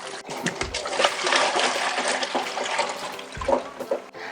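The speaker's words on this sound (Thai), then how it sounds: "ล้างน้ำเกลือออกนะคะ ประมาณสักสองสามน้ำค่ะ" Salted tamarind being rinsed in water to wash off the brine, a continuous busy swish and splash of running and sloshing water close by with brief louder gushes, no talking.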